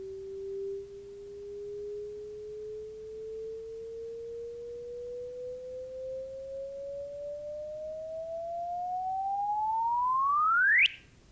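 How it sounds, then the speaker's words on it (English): Simulated gravitational-wave chirp from two black holes colliding: a clean, faint pure tone that glides slowly upward in pitch and loudness, then sweeps sharply higher in a final rapid whoop before cutting off. "This is a numerical relativity simulation that's showing the two black holes that collide and then collide. And you hear them too, actually."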